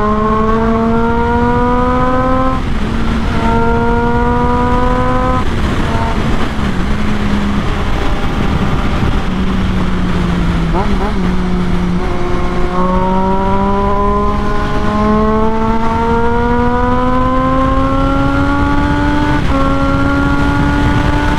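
A Triumph Daytona 675 motorcycle engine revs hard through repeated climbing gear pulls, each rising whine cut by a brief shift, loud and close for the whole stretch with no talking.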